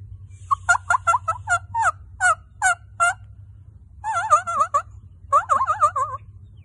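A grass blade whistle squawks out a turkey-like imitation: a run of sharp, evenly spaced yelps, then a pause, then warbling bursts.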